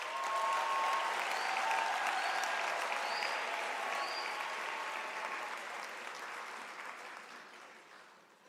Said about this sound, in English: can we give our graduates a warm round of applause?